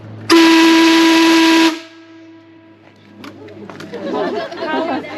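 A compressed-air whistle at the Britannia Mine Museum gives one very loud, steady, tonal blast of about a second and a half, followed by people chattering and reacting nearby.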